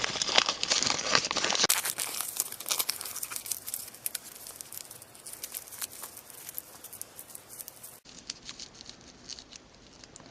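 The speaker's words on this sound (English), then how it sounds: "I'm just going to open it and re-crumple it." Sheet of paper being opened out and crumpled again, a dense run of crinkling and crackling patter that starts loud and close, then softens in the middle and builds again toward the end, with no talking.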